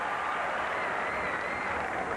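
Crowd at a 1987 USA vs USSR men's gymnastics meet applauding a move, a dense steady wash of clapping with no break, heard from within the arena.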